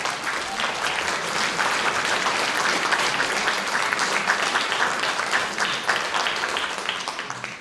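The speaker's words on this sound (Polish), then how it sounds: "Wielkie brawa" Sustained audience applause at a Lemko cultural gathering in Gorzów Wielkopolski, dense steady clapping from a crowd lasting the whole stretch without a break.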